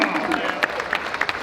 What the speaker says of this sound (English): let's have a rapturous round of applause for Andy May and Jamie Hughes